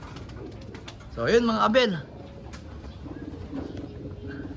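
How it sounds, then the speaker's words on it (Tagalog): A pigeon gives a short burst of close, loud cooing on a rainy day, with someone speaking briefly before it and soft rain and background noise throughout. "hayaan na lang natin magpahinga yung mga ibon natin"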